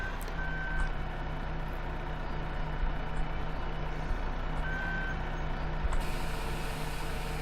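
Truck reversing a trailer toward a grass pile in Farming Simulator 15, with a steady engine drone and a few spaced electronic reversing beeps over it.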